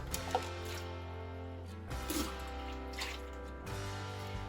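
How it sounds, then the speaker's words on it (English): Hot water pours steadily over dishes in a sink, a continuous splashing wash under a low, steady hum. "Pour hot water over that."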